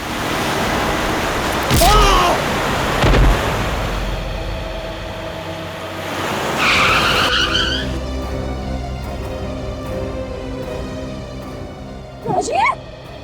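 Tires screech as a car brakes suddenly in a TV crime drama scene, a loud skidding burst followed by a lingering dramatic score, with another short screech near the end.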